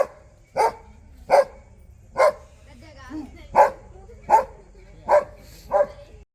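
A tired dog that has just fought a python gives a run of sharp barks, about seven evenly spaced loud woofs close by with brief pauses between them, and a faint whimper midway.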